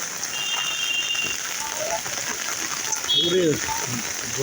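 Heavy rain pours steadily close by as a broad, unbroken wash of noise, with a voice speaking briefly over it near the end and a faint whistle-like tone in the background.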